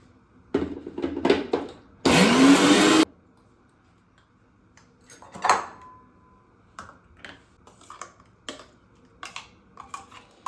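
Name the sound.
blender grinding spinach into paste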